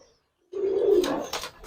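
Pigeons in a Bangladeshi market pigeon pair sale, a low rolling coo rising after half a second of silence and holding steady, close and fairly loud, with no talk.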